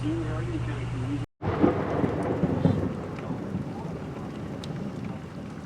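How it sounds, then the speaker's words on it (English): Heavy thunderstorm in Memphis, Tennessee: steady rain and wind buffeting the microphone, with low rumbling thunder rolling underneath after a brief cutout. "Rain's getting heavier. Lightning's getting heavier."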